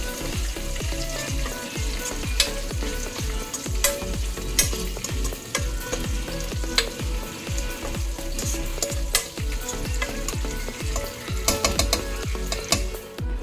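Ginger garlic paste fries in a pan for mutton pulao, with a steady close sizzle under rapid, rhythmic scraping strokes of a spoon that repeat throughout. No one speaks.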